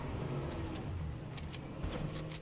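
A car accelerating in a video game, a steady engine drone with rising revs running throughout at even loudness, with a few brief high clicks near the end.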